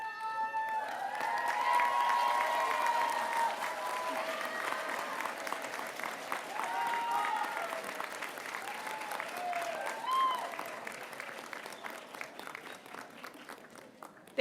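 Audience applause at a nursing school honors convocation, sustained clapping from a large crowd filling the room throughout, with faint cheers and voices mixed in, moderately distant.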